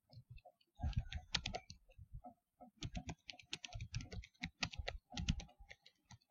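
Quick bursts of keystrokes on a computer keyboard as a teacher types a quiz question, clustered clicks separated by short pauses, close and clear with no talking.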